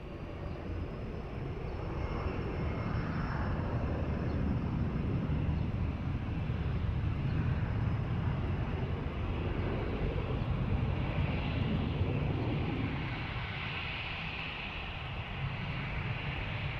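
An airplane takes off from runway 20 at Lisbon Airport, its heavy engine roar filling the air in a sustained, broad rumble that swells slightly and then eases as the jet moves off.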